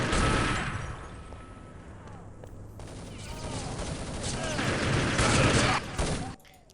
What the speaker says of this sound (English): Sweetan now using an AK, choosing for firepower over accuracy